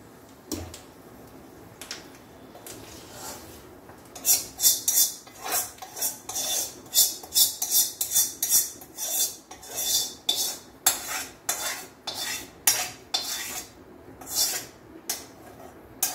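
A metal spoon clinks and scrapes briskly against a pot as a tempering with curry leaves is stirred into tamarind chutney, the rapid rhythmic clatter starting a few seconds in and continuing close and bright without speech.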